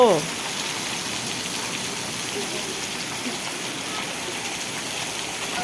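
Torrential rain lashes down in a mini cyclone with strong wind in Vejalka, a loud, steady broadband roar of water holding evenly throughout after a brief louder onset.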